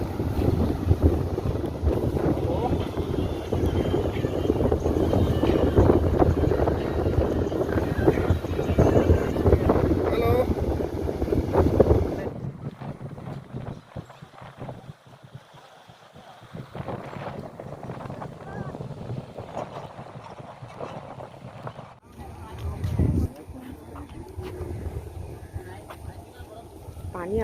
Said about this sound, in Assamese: পানীৰ আৱাজটো ইমানকৈ আহিছে